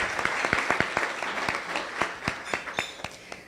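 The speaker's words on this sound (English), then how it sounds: "I think we should give Bill and Melinda Gates a nice round of applause." An audience at a Rotary Club weekly meeting gives a round of applause, a scattered patter of many hands clapping at moderate volume for several seconds, heard alone.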